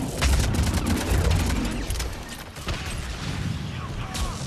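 A fire explosion bursts in the shooter game Mass Effect 3 during multiplayer combat, a loud close boom followed by rattling gunfire and crackling noise, with a voice talking over the action.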